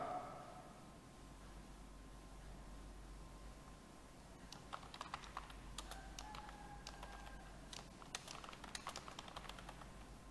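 Computer keyboard typing while entering text in Microsoft Word, a faint irregular patter of quick key clicks starting after a few seconds of quiet room hum.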